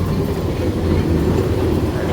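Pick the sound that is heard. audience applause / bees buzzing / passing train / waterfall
passing train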